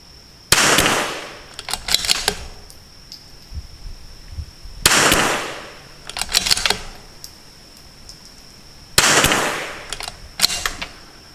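Three loud rifle shots fired from a sandbag rest, each a sharp crack with a long ringing tail, followed about a second later by softer clattering handling noises, evenly spaced several seconds apart with quiet in between.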